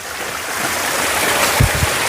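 Strong, steady rush of water pouring over a small mini waterfall, a continuous close broadband roar with a couple of low thuds near the end.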